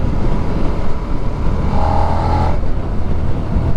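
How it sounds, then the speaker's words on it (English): Suzuki SV650 motorcycle in fourth gear at about 50 mph, intake noise rising under acceleration with a brief higher-pitched howl swelling midway, over steady road and wind rumble from the rider's position. "It's got a good sounding intake."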